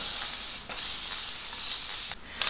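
A spray bottle mists water onto hair in a long, steady close hiss, broken by two brief gaps where the trigger is released before spraying resumes.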